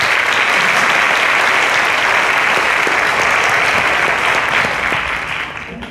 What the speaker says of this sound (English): A round of applause, please.